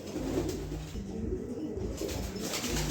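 Fancy pigeons, a pair of White Bombay birds, coo softly and continuously against steady background noise, with no one speaking.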